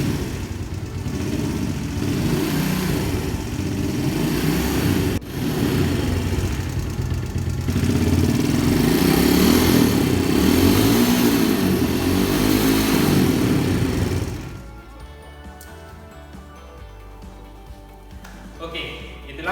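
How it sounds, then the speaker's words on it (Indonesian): Yamaha Jupiter Z motorcycle engine running roughly, a loud uneven mid-pitched drone with fluctuating revs for about fourteen seconds, then dropping to a quieter idle, with someone talking over it. "Yang kedua, suara mesin lebih kasar."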